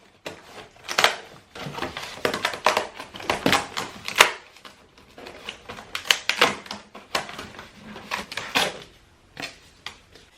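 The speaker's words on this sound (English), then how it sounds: "you can't really cut small curves in cardboard with that X-Acto knife" Sharp, irregular cutting and crunching strokes as an X-Acto knife slices through cardboard, close by and alone, with clusters of rapid scraping bursts separated by short pauses.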